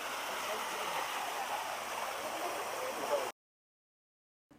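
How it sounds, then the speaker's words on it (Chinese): A waterfall pours from a hole in a rock wall at The Hole in the Wall on Vancouver Island, where people swim. It makes a steady, loud rushing wash that stops abruptly near the end. "然后水就从那里流下来，形成了一个瀑布"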